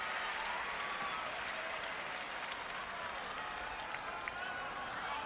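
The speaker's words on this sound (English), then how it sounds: "The crowd can barely contain themselves." A tennis crowd at the 2011 US Open final between Djokovic and Nadal applauds steadily, a dense wash of clapping heard from a distance with a commentator's voice over it.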